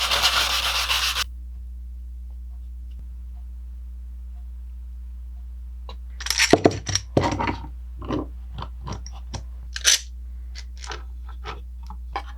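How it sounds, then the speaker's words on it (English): Sandpaper rubbing by hand inside a wooden bandsaw scoop, heard as short, close scratchy strokes in irregular bursts over a low steady hum, after a brief hiss at the start. "before I glue it, I'm going to touch up the inside with just a little bit of sandpaper"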